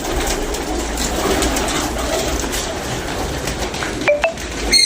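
Pigeons in a loft give soft cooing amid a steady murmur of birds, with a few sharp clinks and chirps near the end; no talk.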